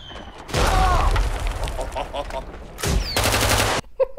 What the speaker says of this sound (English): They're firing at him and just like he's just dodging bullets.